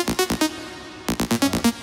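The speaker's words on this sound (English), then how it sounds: "And then we add OTT to get a bit more crisp." A simple synth lead run through OTT multiband compression sounds brighter and crisper, playing two quick bursts of short rhythmic notes with a brief pause between them.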